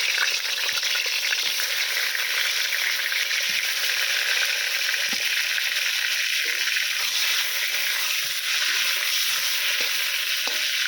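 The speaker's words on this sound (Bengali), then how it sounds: "তেলটা আমার গরম হয়ে গেছে এবারে পটলগুলো দিয়ে দেবো" Pointed gourd (potol) pieces frying in hot mustard oil, a continuous loud sizzle and crackle with occasional stirring clicks, no voices.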